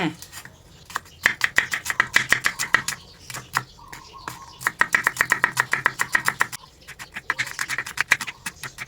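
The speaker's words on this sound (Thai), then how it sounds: "เราก็จะปอกเปลือกหอมแดงทำความสะอาดให้เรียบร้อย นำมาหั่นซอยเลยค่ะ" A knife slices peeled shallots on a cutting board in a home kitchen, producing rapid, steady chopping taps in bursts with brief pauses, close and alone.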